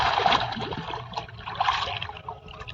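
A hand plunges into pond water, sending up continuous close sloshing and trickling splashes that rise and ebb without a break and without voices.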